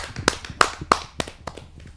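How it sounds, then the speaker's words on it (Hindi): Scattered hand claps at a poetry recital gathering in Noida, about six distinct sharp claps over two seconds with quiet gaps between them and faint room noise underneath. "आइए आमंत्रित करते हैं उनका जोरदार तालियों से"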